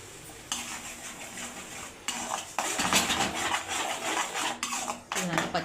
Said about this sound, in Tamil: அதை போட்டு நல்லா வதக்கிக்கலாம்.